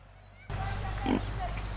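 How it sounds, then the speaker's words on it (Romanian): Kunekune pigs in New Zealand give a short low grunt, close by, under a person speaking. "O specie unică în Noua Zeelandă sunt acești porci cune-cune"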